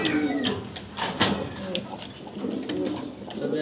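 A female Maltese pigeon coos in low, throaty rolls several times in close succession, nearby and fairly loud, with scattered sharp clicks and rustles in the background.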